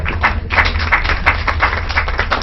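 Applause from a panel discussion audience, steady dense clapping throughout at moderate volume, with no speech over it.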